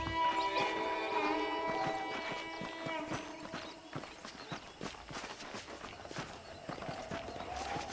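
Saddled horses in the western game Red Dead Redemption clop along on hooves at a steady walking rhythm over ambient background, with a brief whinny and some faint talk mixed in.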